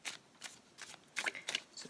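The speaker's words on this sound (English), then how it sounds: "So I'm just going to shuffle this deck" A tarot card deck being shuffled close by in a quiet room: a series of crisp, papery riffling bursts in an uneven rhythm, with no talking.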